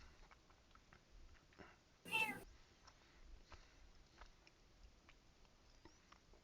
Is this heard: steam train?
no